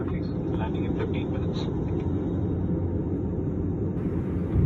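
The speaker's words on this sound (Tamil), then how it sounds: "அப்படியே ஃப்ளைட் வந்து சூப்பராக லேண்ட் ஆகிடுச்சு" Inside the cabin of a passenger airplane landing, a steady loud rumble of engine and wind noise fills the space, with faint higher tones over it and a slight surge near the end.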